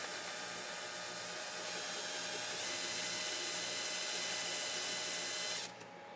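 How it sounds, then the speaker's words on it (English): A drill bit bores through a plastic container, a steady high-pitched whine running continuously and close before cutting off near the end. "Take my drill bit, and I'm just going to go right through the can with it."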